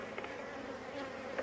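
Honeybees hum steadily around an open hive that may lack a queen, a soft, continuous insect drone with slight swells, heard close and fairly quiet with no talking.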